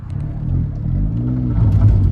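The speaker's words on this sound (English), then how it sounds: "Car coming." A car drives past with a deep, loud rumble that swells and lingers for a couple of seconds, and no one speaks over it.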